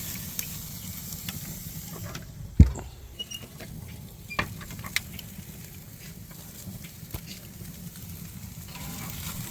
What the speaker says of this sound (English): We are now going to flip the steak, showing you the amazing caramelization.